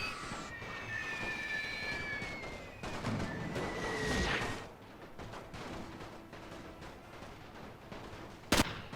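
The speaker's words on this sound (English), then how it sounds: "Can I get the artillery to focus in on that unit over there?" Distant battlefield rumble and scattered booms of artillery fire in the WWI strategy game The Great War, playing as the Russian Empire, with a soft continuous din and a sharp loud crack near the end.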